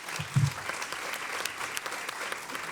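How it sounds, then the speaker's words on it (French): Audience applause for the speakers at the close of a conference session on representations of old age, a steady moderate clatter of many hands at a distance in a hall, a brief low thump near the start. "Moi, je voudrais qu'on applaudisse tous nos intervenants qui ont été formidables."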